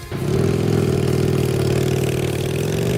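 A motorcycle engine rumbles steadily and loudly, revving slightly at the start and then holding a throaty idle for a few seconds.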